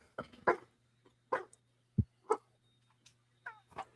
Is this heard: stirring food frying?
no